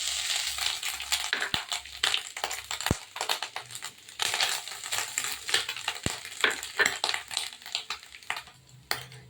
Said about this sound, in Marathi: नारळ छान तुपामध्ये परतवून घ्यायचा